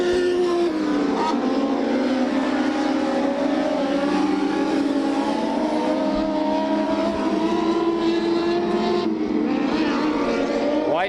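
A USAC midget race car screams around a Bakersfield oval at high RPM, a loud sustained engine whine that rises and falls in pitch through the turn, with other cars and a commentator faintly underneath.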